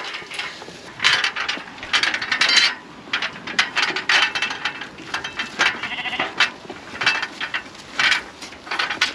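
Ewes penned for lambing bleat repeatedly in bursts, several calls overlapping close by against a steady rattling background.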